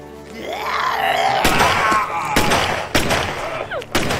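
Gunshots crack out during a Hindi-dubbed zombie movie, four or five loud separate bangs at uneven intervals, preceded by groaning and strained vocal sounds.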